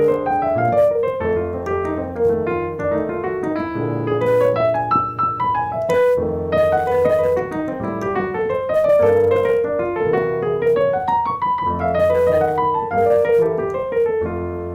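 Improvised blues with Mixolydian lines played over dominant chords, a steady harmonic instrument performance running continuously and fairly loud, with no talking.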